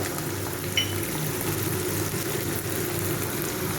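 Chopped vegetables and tomato frying in oil in a pan for a vegetarian banana-flower dish with coconut and chickpeas, a steady, dense sizzle and crackle running unbroken under a faint background hum.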